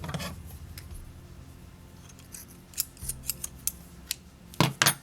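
Scissors snip through white yarn while finishing a crocheted ear-warmer headband, a quiet stretch followed by a quick series of sharp, close cuts near the end.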